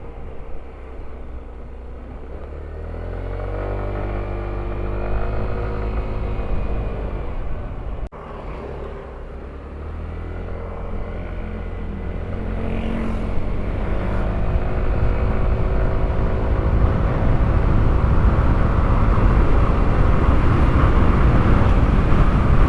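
A Samurai 155i V2 motor scooter's exhaust drones while riding, its engine tone climbing steadily in pitch as it accelerates, with growing wind rush building underneath.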